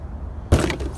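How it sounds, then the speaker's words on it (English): A car door frozen shut in 15-degree cold is forced open with one sudden dull thud and jolt after a moment of near silence. "Door was literally frozen shut."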